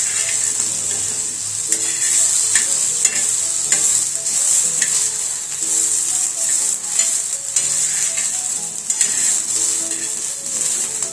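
Fresh pigeon pea (toor) seeds being stirred and lightly roasted in a pan, a steady close sizzle with repeated scraping strokes of the spoon throughout, with no talking.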